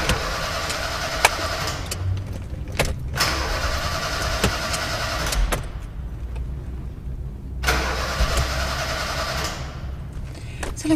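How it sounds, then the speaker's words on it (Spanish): A car engine turns over and runs, heard in bursts between quieter pauses, with a steady low rumble and some creaking; no voices. "Déjame escuchar el motor."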